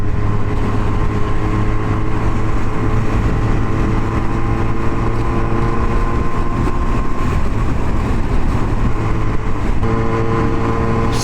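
A Regal Raptor Pilder 125cc motorcycle engine runs steadily and loudly with a droning hum and a whining tone, holding an even pitch with a slight change toward the end.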